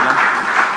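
Loud, dense applause from a jazz concert audience, a short continuous burst of many hands clapping together with no break.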